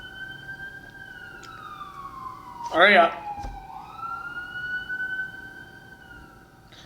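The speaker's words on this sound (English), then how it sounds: "that's an ambulance, I think." An ambulance siren wails in the background of a wrestling event, a steady tone gliding downward with a brief loud burst of shouting partway through, voices talking over it.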